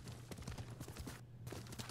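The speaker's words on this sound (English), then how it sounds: "There's my horse!" Horse hooves clop in a quick, steady rhythm as a mounted horse moves along in Ghost of Tsushima, close and fairly faint, with a brief gap partway through.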